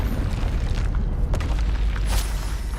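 Spell explosions from the Hogwarts Legacy video game boom in a dense, continuous low rumble with a sharp burst near the middle, alone without talk.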